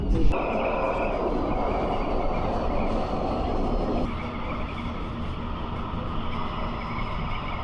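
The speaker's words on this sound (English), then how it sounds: "Tram departing." Light rail tram on the Gold Coast line to Helensvale, a steady loud rumble and rolling hum under way for several seconds without talk.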